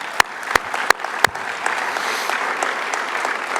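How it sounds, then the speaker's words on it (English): An audience at an airport press conference claps for airline staff. It opens with a few loud, separate claps, then settles into steady, dense applause that carries on to the end. "I'd just like to give them a round of applause as they're in the back"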